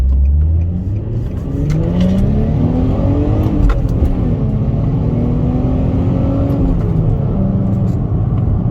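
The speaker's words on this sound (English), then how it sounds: "this car sounds so much better" A 2004 Infiniti G35 with a six-speed manual revs and accelerates hard, its engine pitch climbing and dropping in loud, continuous sweeps close by, with no talking.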